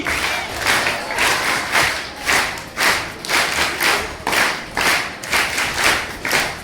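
Children at a Vedic school gathering give a loud welcoming clap in rhythmic unison, a dozen or so strong group claps pulsing evenly at close range with no talk.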